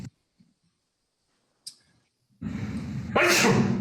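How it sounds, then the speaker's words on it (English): A loud, close sneeze bursts out after a few faint clicks and near-silence, ending in a hissy, breathy spray. "when you sneeze with the mask, there are no droplets there"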